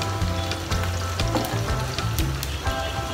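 Food for pangburo, a Filipino preserve, fries in a pan with a steady loud sizzle and crackle, a few stirring scrapes breaking through the continuous hiss.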